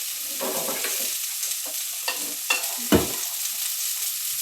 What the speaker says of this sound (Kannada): ಇದನ್ನು ಸ್ವಲ್ಪ ಹುರಿಬೇಕು